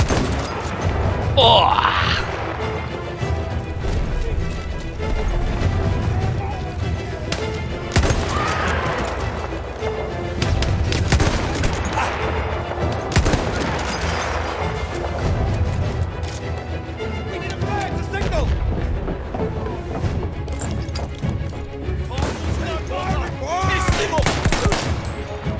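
Battlefield 1 Gallipoli campaign battle with a German rifle, dense rolling gunfire, bursts of automatic fire and explosive booms throughout, with a man's brief exclamation over the chaotic din.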